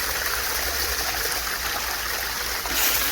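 Water rushing through a gold sluice box loaded with Home Depot sand, a steady close splashing flow with no pauses.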